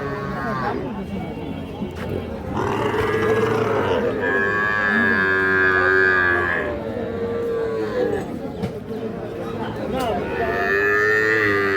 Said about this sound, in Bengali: আর এই পাশে দেখছি এগুলো কিন্তু সব ষাঁড় বাচ্চা।